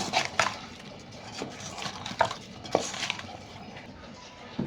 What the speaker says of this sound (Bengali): এখন আমি এটি ভালো করে মেখে নেব।